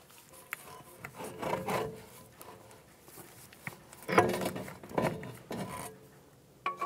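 A drive axle is pushed through the hub of a 2013-2017 Honda Accord front knuckle, giving faint, intermittent scraping and rubbing of metal on metal in several short bursts with quiet gaps and a few light knocks.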